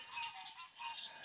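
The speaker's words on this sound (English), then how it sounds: "these frogs are loud" Continuous chorus of frogs croaking in pulsing, overlapping waves in Conecuh National Forest, fairly loud and steady throughout with no voices.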